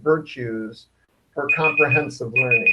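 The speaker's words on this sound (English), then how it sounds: "that's my alarm saying the breakout should end" A phone alarm rings with a steady high repeating tone through an online learning breakout session, sounding under continuous talk while a person keeps speaking before and after a brief pause.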